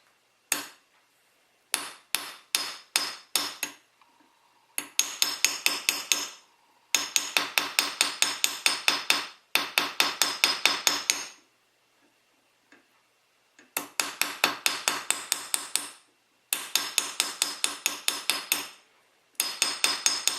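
Rapid bursts of light metallic hammer taps texturing jewelry metal, dozens of quick even strikes in clusters separated by brief pauses, close and crisp.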